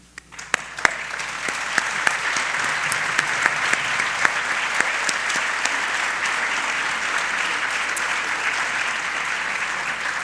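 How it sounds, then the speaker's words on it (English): A large audience at a university address applauds steadily, dense continuous clapping filling the hall for about ten seconds, with a few individual sharp claps standing out near the start. "Would all of you please stand for a moment of applause?"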